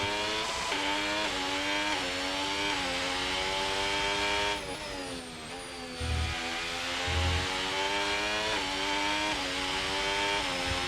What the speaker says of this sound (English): The Cadillac, definitely on a fast lap.